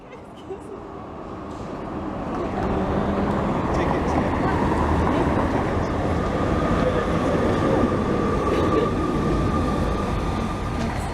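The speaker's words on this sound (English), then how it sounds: "here comes our tram now" A tram rumbles into a stop in Vienna and grows louder, a steady heavy roll with faint wheel squeal, nearby, with people talking underneath.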